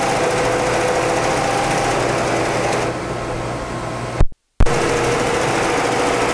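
An embroidery machine stitching a second layer runs at speed with a steady high-pitched mechanical whir, loud and continuous, briefly cutting out near the end before resuming.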